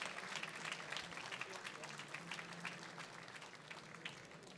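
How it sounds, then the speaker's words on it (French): Scattered crowd clapping at a French pike fishing championship prize ceremony for the winning bass boat team, faint and somewhat distant, with uneven individual claps and murmuring voices mixed in. "un tonnerre d'applaudissements s'il vous plaît pour Jérémy Josserand et Sylvain Giraud des Gentleman Fisher"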